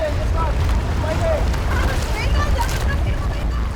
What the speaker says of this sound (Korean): 교육을 받으면 가이드를 따라 보트를 타고 바다로 나간다